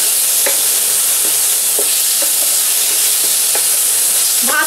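A spoon stirs sugar through raw mango rice in a pan, with a steady close hiss and a few light scraping taps against the vessel.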